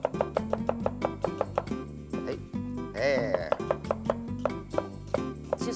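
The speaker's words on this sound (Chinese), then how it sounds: "我们就把它切成 切丝喽" A kitchen knife slices raw onion into shreds on a cutting board in quick, evenly spaced chops, a brief pause in the middle, while people talk over the steady rhythm.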